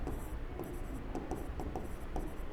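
Pen on paper writing an answer, soft scratchy strokes in short irregular bursts, close and quiet.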